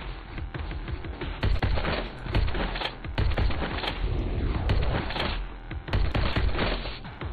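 Rapid bursts of gunfire from a weapon in the video game To Hell with Hell crackle loudly and almost continuously, with dense repeated shots layered over game effects.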